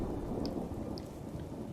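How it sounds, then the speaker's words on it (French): Steady rainfall with a low rumble of thunder underneath in the video game Skyrim, a continuous wash of noise at moderate volume with no voices. "Il pleut toujours."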